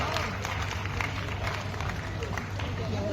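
Audience applause at a Hindi hasya kavi sammelan, a comic poetry gathering, comes as a steady dense wash of many hands clapping with crowd murmur beneath it, continuous and fairly loud throughout.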